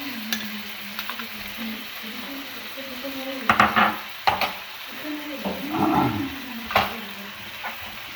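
Butter sizzles on a chunk of beef neck grilled in a tandoor, a low steady crackle with louder bursts of clatter and spitting now and then.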